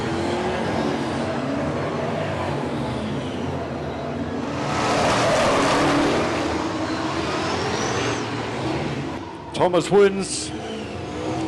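Speedway race cars roar around a dirt track at a steady drone, rising and falling as they pass, with an announcer talking over the engines throughout.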